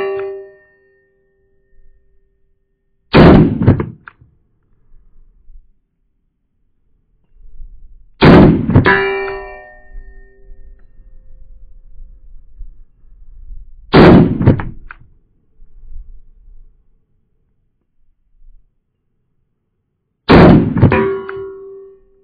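A Smith & Wesson Bodyguard 2.0 pistol fires four sharp, loud single shots spaced several seconds apart, each followed by a short ringing decay, with quieter handling noise in between.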